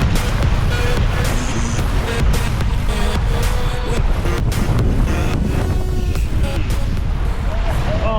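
Waves slap and rush around a heeling sailboat off Key West in heavy seas of about ten feet. Loud, gusty wind buffets the microphone over the constant roar of water.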